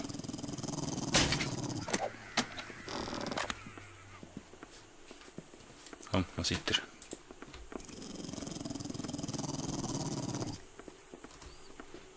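Dogs growl and snarl in the survival video game 7 Days to Die, a low rumbling that rises and fades over several seconds, with someone speaking over it and a few sharp thuds.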